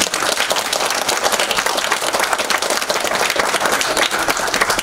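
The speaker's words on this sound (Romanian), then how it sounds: "încă o dată aplauze pentru..." An audience at a festival poetry event applauds loudly and continuously, dense clapping filling the whole stretch with no pause.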